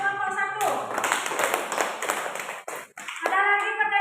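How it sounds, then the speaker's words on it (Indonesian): A classroom group claps for the first group of students, a brief burst of applause heard with a teacher's voice speaking over it before and after. "Tepuk tangan untuk kelompok 1."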